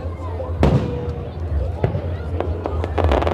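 Several sharp firework bangs crack out at irregular intervals at a Canada Day celebration in Regina, Saskatchewan, with crackling bursts, while a voice talks over the noise nearby.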